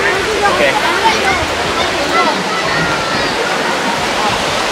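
A small waterfall of clear water in Chickasaw National Recreation Area, Oklahoma, rushes in a loud, steady wash, with people's voices blending into the spray nearby.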